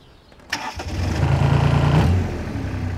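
A tractor engine used for mucking out horse stables cranks and catches with a sudden burst, then settles into a loud, close, rough running drone.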